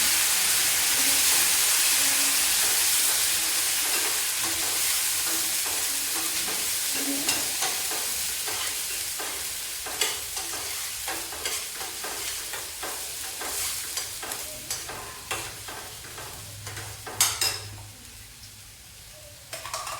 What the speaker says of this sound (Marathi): आणि या तेलामध्ये आपण हा मसाला घालून घेणार आहे